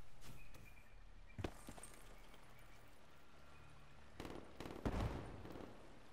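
Gunfire in the online match Call of Duty: Black Ops 3, a few sharp shots at first, then a steady hum with a louder burst of close, cracking shots near the end.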